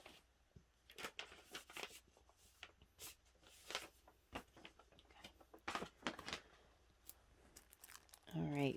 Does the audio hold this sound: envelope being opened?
yes